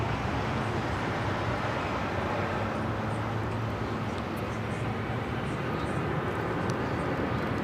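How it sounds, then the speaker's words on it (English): An American Airlines Boeing 737-800 takes off from LAX, a continuous broadband engine roar that holds steady and loud throughout without letting up. "This is American Airlines 1899 taking off to Indianapolis on the 737-800."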